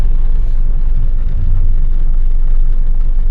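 Stalled highway traffic jam on the Trans Java toll road, a constant loud low rumble of idling car engines close by. The rumble is unbroken, with no voices.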